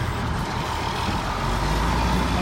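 A truck on a street in a new-build housing area rumbles past in a loud, steady, broad drone that stays close throughout, with no talking.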